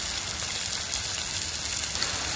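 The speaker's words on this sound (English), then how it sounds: "Can you hear the rain in the background?" Steady rain patters continuously on a surface, a dense even hiss of drops with no voices, fairly soft and close.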